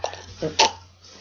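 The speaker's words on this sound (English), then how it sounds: "Is that a burp?" A short burp rises over a low steady hum, with a faint voiced sound just before it and quiet trailing noise afterward.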